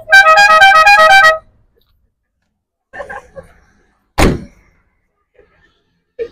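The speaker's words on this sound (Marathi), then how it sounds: "प्रेशर हॉर्न बिर्न असं नुसतं खतरनाक वाणी न वाजते" A loud pressure horn on a 2021-model car sounds in one sustained musical blast, followed by silence, faint knocks and a sharp thump.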